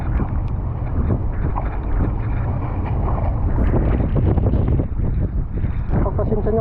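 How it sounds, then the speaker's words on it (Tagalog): Strong sea wind buffets the microphone on a small boat, a continuous low roaring rumble with gusty surges, while someone talks over it. "Pagpasensya niyo po, mahangin."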